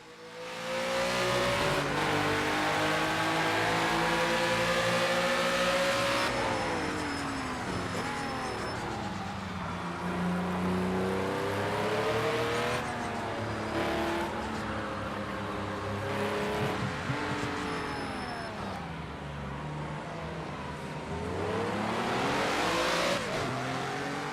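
A 2019 historic IMSA GTO race car engine in the Project Cars 2 video game roars and revs continuously, pitch climbing and dropping through gear shifts, loud and up close with no talking.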